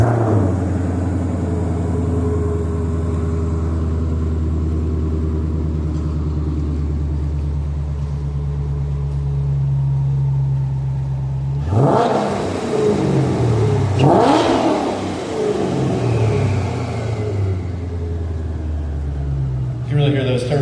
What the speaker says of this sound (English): after we get the car fired up here and give it a few revs